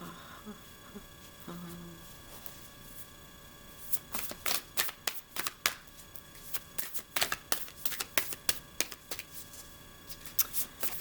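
Cards being shuffled nearby in quick bursts of riffling, repeated several times after a quiet start with a faint background hum.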